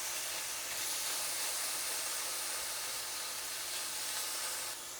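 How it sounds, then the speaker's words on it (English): Four strips of bacon sizzle steadily in a hot pan for a white pasta sauce, a continuous bright hiss that holds at the same level throughout, with no talking. "And we're going to let the bacon cook for just a few minutes by itself."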